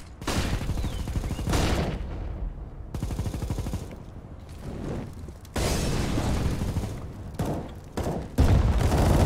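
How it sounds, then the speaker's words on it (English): Gunfire and explosive blasts in the video game CS:GO, including a flashbang grenade, with loud bursts of shots and booms broken by short gaps, close and harsh. "Deploying flashbang."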